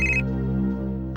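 A phone ringtone signals an incoming call, a steady electronic tone with sustained harmonic layers that loops through the whole moment, fairly loud with no one speaking over it.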